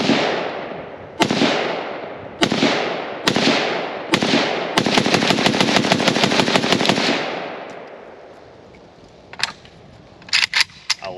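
A WASR10 Para AK-pattern rifle fires outdoors: four loud, evenly spaced single shots, then a rapid burst of fire that rings out and fades, followed by a few sharper distant cracks near the end.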